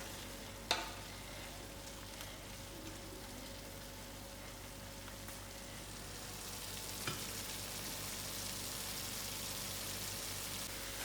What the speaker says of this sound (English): I'll give it a good stir and allow it to cook for another few minutes.